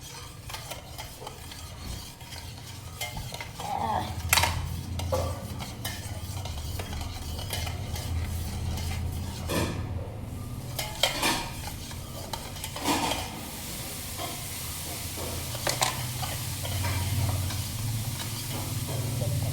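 Food being stirred in a pan sizzles steadily, with a spoon scraping and clinking against the metal in irregular strokes, close and moderately loud, no voices.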